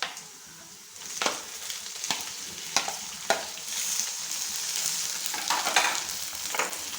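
Ginger garlic paste and tomato sizzle in a hot pan while cooking beef liver masala, a steady frying hiss broken by several sharp scraping stirs of a spoon against the pan.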